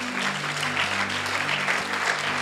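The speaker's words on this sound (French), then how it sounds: "On acclame le Seigneur pour lui." A church congregation claps for the Lord in steady, even applause, with a low hum running underneath. It carries on unbroken at moderate loudness, with no voices standing out.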